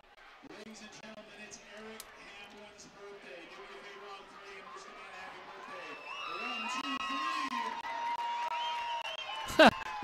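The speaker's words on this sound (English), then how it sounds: "Give him a big round of applause." A crowd at a high school football game between the Round Valley Elks and the St Johns Redskins cheers and applauds for a birthday, swelling louder toward the end under a steady stream of announcer talk.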